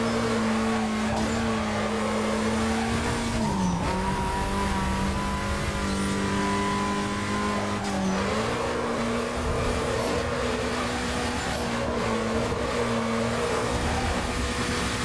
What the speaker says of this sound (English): Might sound I'm killing my engine, but it's actually a lot more faster to not change gears.